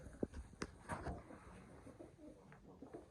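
Pigeons cooing faintly at home in rural Punjab, soft low calls among sparse thumps and quiet background noise, with no talk.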